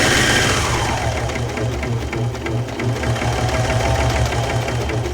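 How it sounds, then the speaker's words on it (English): A serger overlock machine sews scrap fabric at quick speed, a loud, close, rapid rhythmic chatter and hum running without a break. "Now this serger actually, the speed's pretty quick"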